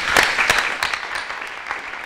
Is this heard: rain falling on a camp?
no